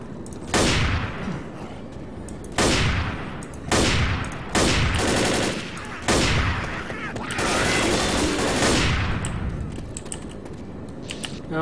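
Heavy shotgun blasts in Left 4 Dead, several separate booming shots spaced a second or two apart, each with a ringing tail, followed by a longer cluster of fire.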